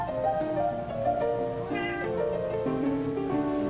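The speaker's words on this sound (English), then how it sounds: "I have Frank and my kitty." A cat meows repeatedly in long, drawn-out, tonal cries, close and fairly loud, with short gaps between calls.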